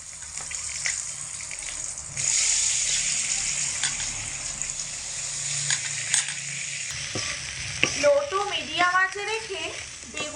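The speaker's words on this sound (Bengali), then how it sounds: "কেটে রাখা বেগুনের পিসগুলোকে তেলের মধ্যে ছেড়ে দেবো" Cut eggplant pieces dropped into hot oil start a loud, steady frying hiss that holds throughout, with occasional stirring noises. A voice is heard briefly near the end.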